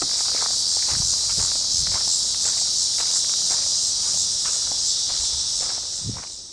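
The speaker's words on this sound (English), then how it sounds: "The sounds of a ghost town sometimes are just insects and wind and maybe parts of a building flapping against itself or something." Insects buzz in a constant high chorus at a desert ghost town on Route 66, with soft scattered steps or rustles below.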